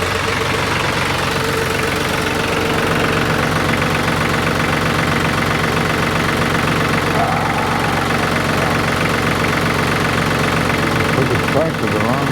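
A tractor engine idles with a steady, rough, knocking rumble close by on a horse farm, running continuously while someone talks over it.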